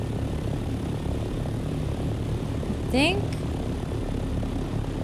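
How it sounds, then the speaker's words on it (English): A helicopter in the video game Dune Awakening drones with a steady, loud rotor-and-engine roar throughout, while someone speaks briefly over it. "Where does the chopper belong?"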